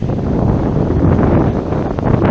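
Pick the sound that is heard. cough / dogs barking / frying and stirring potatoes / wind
wind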